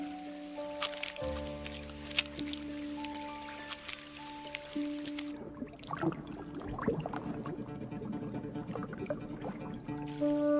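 Rain shower in a cartoon, a steady pouring, trickling patter of water that takes over midway from a calmer, tonal musical passage and carries on to the end.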